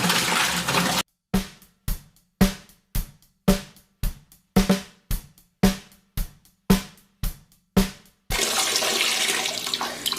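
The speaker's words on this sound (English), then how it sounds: "So what I'm gonna do is put some water in first." Water is poured into a container while making five gallons of apple and cinnamon mead. A rushing pour gives way to a regular run of about a dozen glugging bursts, then a steady stream again.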